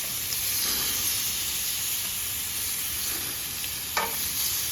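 Picanha steak sizzles steadily on a hot BBQ grill, a continuous close, even crackle with a small pop near the end.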